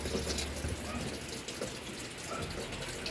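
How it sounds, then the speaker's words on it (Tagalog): Water gushes steadily into an old washing machine on its normal wash program at a low water level, a continuous rushing flow with faint background voices. "wash ang program niya, normal, tapos low ang tubig, nagkakarga ng tubig"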